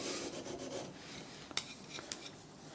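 Steel chisel held flat against a running belt sander, a steady abrasive rasp throughout with a couple of brief sharper scrapes near the end, close and fairly quiet, no talk.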